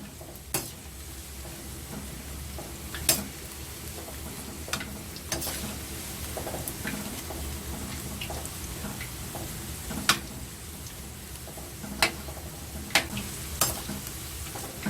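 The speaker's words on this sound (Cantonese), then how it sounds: "咁我哋炸到佢少少金黃色先" Food deep-fries in hot oil until golden, a steady close bubbling sizzle with occasional sharp clinks and taps from utensils against the pot, no voices.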